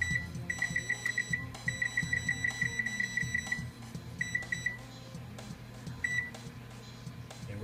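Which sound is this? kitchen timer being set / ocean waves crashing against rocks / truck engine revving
kitchen timer being set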